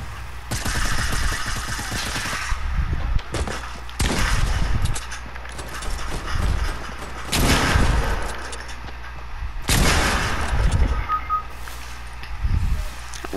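Rapid bursts of video game gunfire rattle in several loud clusters, with sharp shots and brief pauses between volleys throughout.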